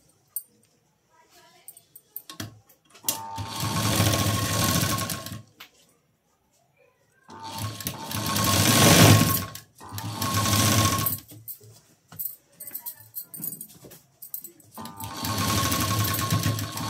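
A sewing machine stitches a blouse in three long bursts, each running steadily for a few seconds, with quiet pauses between them; the motor hums close and clear.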